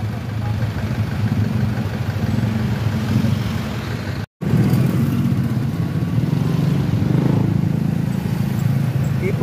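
Monday morning road traffic with idling motorcycles and cars makes a steady, close engine rumble that runs throughout, broken by one brief dropout partway through, with possible faint voices in the mix.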